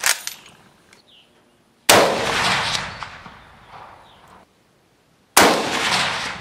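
Mosin rifle shots at a jug outdoors: a sharp, loud crack at the start, then two more close, powerful blasts with metallic ringing and decaying echoes, separated by quiet gaps.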